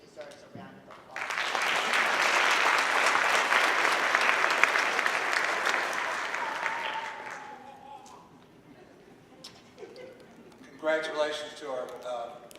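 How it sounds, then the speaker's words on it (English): Audience at a school board meeting gives a round of applause, a dense burst of clapping that rises quickly, holds for several seconds and tapers away, followed by someone speaking. "I think he deserves a round of applause."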